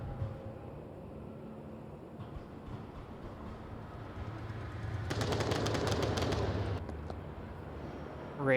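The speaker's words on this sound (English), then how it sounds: "Radar firing more shots." Gunfire in the VR shooter game Onward comes as a rapid burst of distant automatic shots over a low, steady game rumble, with a commentator talking.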